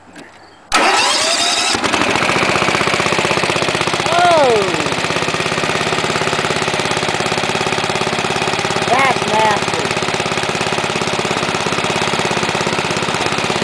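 An engine cranks and catches on a cold start without choke after a brief quiet moment, then runs loud and steady with a rough, busy idle and a few high whines over it.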